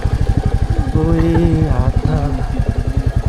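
A Royal Enfield Classic 350 motorcycle on a weekend ride to Chisapani gives a loud, close, steady thumping single-cylinder beat, with someone talking over the engine partway through.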